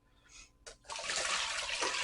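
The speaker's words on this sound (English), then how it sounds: "we're going to rinse out the starch until the water gets clear" Water runs and splashes into a bowl of raw beef for stew, rinsing out starch; a few short drips lead into a strong, steady gush of running water.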